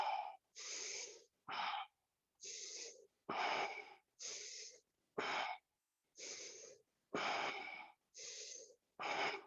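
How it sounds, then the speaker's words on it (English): Breathing in and out during a yoga session, eleven distinct breaths in a slow, regular rhythm, each a close, airy rush with brief silent pauses between, heard alone without talk. "Breathe in, breathe out."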